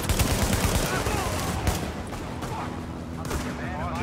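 Sustained automatic gunfire in The Division video game, a dense rapid fusillade of shots filling the whole stretch, loud and continuous with overlapping bursts.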